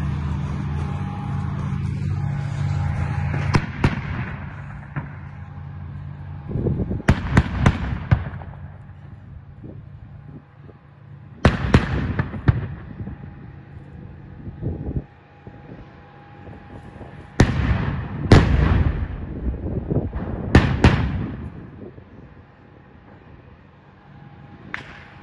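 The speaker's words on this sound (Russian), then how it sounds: "танк выходит, стреляет и отходит назад" A tank fires during urban combat in Mariupol. Several heavy, loud blasts come at irregular intervals, each with a ringing, echoing decay, over a low rumbling background.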